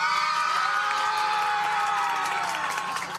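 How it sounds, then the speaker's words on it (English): A crowd across the street cheers loudly after a court verdict in a trial, with dense shouts and whoops building into a sustained roar that holds steady for about three seconds before easing off slightly. "Across the street, cheering"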